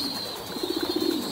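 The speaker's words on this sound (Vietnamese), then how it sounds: "Em thấy con chim bồ câu mới nở này dễ thương không?" A newly hatched pigeon gives a short run of soft, rapid cooing pulses, faint and close, over a quiet background with a steady high hiss.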